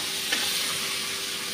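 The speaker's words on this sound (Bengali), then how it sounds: "এখন গুলে রাখা মশলাটা দিয়ে দিচ্ছি।" Spice paste hitting a hot pan while cooking soybean and potato curry, giving a steady, close sizzling hiss with a small spatter burst near the start and no voices.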